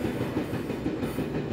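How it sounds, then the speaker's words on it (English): A passenger train running along rails, a steady close rumble with a soft rolling rhythm, heard from on board with no talking. "I love travelling by train."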